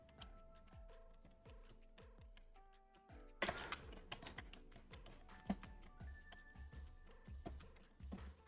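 Touch typing on a computer keyboard for a typing test: quiet, rapid, fairly steady keystroke clicks with a few louder taps, heard close up with no speech.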